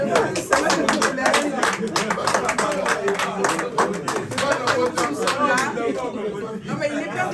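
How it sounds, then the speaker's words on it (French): Audience clapping at a celebration for a father of three, with scattered claps and crowd chatter running throughout, fairly close and steady, with voices talking over it. "Est-ce qu'on peut l'applaudir encore une fois de plus?"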